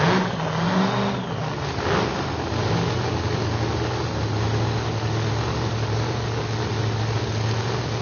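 Powerful Pro Extreme drag racing cars rumble and rev continuously nearby at a PDRA event in Memphis, a dense, loud roar with a steady low drone settling in after an initial surge.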